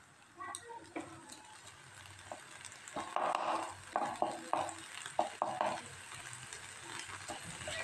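Sweet corn with ground black pepper fries in a pan, a soft continuous sizzle with repeated scraping stirs of a spatula growing louder in the middle.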